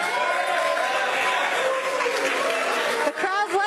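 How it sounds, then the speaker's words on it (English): A studio audience at a sports talk show reacts with a steady wash of crowd noise, chatter and cheering, with voices talking over it. "The crowd's liking it."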